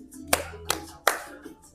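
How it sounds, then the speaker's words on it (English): Three sharp hand claps land near one another, spaced evenly to a salsa count during a group dance lesson in a studio, with faint background sound between them. "So we listen to the music and produce clap as the music."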